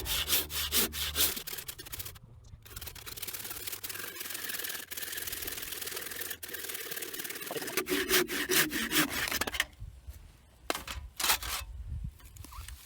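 A hand saw cuts out a laminated wooden trebuchet axle with close, rhythmic rasping strokes that go on steadily, then come in shorter strokes with brief pauses near the end.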